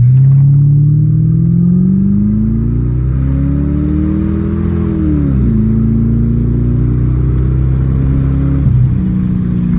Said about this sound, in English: that was a 0 to 60, and she got up quick